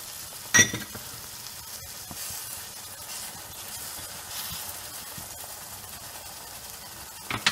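Eggs and hot milk sizzle in a frying pan, a steady soft hiss with faint crackle throughout, opened by a sharp clatter and ending on another brief knock.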